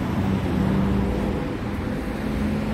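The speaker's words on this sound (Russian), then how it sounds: "С одной стороны громадный проспект, проспект Набережной, поэтому и такой шум машин." Continuous traffic noise from a huge riverside avenue by a park in Dnipro, a steady low roar of passing cars with a faint tonal hum, moderately distant, no voices.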